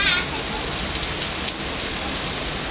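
Heavy rain pours down in a loud, steady, dense hiss of drops with no breaks, close and all around.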